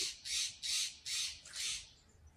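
A bird squawks five times in a steady, evenly spaced series of loud, harsh calls, fairly close and heard on its own without talk.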